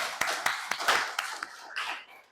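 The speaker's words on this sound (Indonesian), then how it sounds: "Oke, benar sekali, tepuk tangan." A small classroom audience at a UIN Sunan Gunung Djati Bandung teacher-training session claps hands briefly, a short scattered patter of sharp claps fading out after a couple of seconds.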